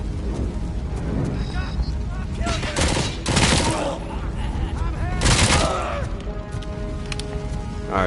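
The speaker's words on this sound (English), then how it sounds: "Threw another grenade." In RoboCop: Rogue City, loud bursts of gunfire and sharp blasts sound close by. They come in several heavy volleys over a steady din of combat, and a voice is heard among the shots.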